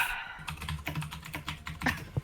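Fingers tapping a computer keyboard in rapid, irregular bursts of clicks, close and clear, with no voices.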